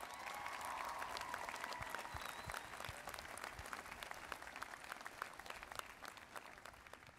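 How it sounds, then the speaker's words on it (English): A large graduation crowd at a university commencement gives sustained applause, a dense, even roar of clapping that holds steady across the whole stretch before tapering slightly at the end. "please join me in giving you, your parents, your loved ones, all of you a great round of applause for this accomplishment"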